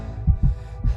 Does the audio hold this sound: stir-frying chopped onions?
no